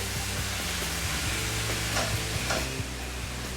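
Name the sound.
mushrooms being stirred and frying in a pan for beef ragout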